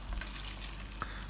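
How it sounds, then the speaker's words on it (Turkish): Meat, pistachios and almonds sautéing in a pan give off a soft, steady sizzle and crackle, with a light stirring scrape now and then. "Diğer yandan kavrulan et, fıstık ve bademlerimizi karıştırıyoruz."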